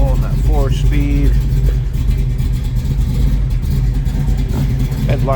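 A 1969 Ford Mustang Mach 1 tribute with a 4-speed idles low and steady, its deep engine rumble continuous beneath someone talking over it nearby.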